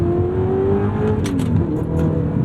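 A 2009 Audi R8 V8 sports car engine revs steadily while accelerating and climbs in pitch with a continuous, throaty roar, loud and close, with no voices.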